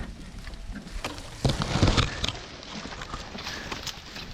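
Draft horses walk between corn field rows during a harvest, their hooves thudding in an uneven clopping rhythm at close range over soft outdoor background noise.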